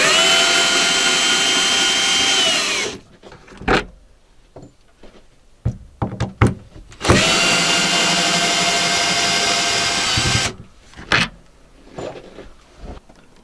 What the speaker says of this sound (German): jetzt drehen wir mal die Schrauben raus. Das können wir mit dem Akkuschrauber machen oder ich mache das mit dem Akkuschrauber.